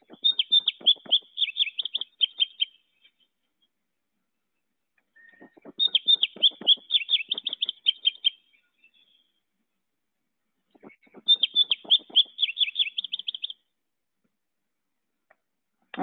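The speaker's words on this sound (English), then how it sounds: "So I'll play you their song." Indigo bunting song played back from a recording in a backyard: three separate bursts of quick, high, paired chirping phrases, each lasting about two to three seconds with pauses between.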